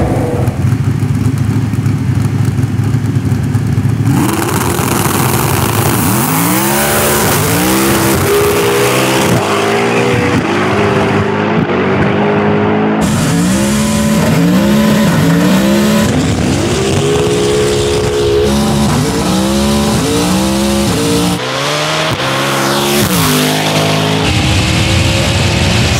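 A twin-turbo Ferrari F12 and a 1400hp all-wheel-drive Ford Mustang roar loudly through a no-prep drag race, engines revving hard and shifting in repeated rising sweeps, with steady high-pitched engine noise throughout.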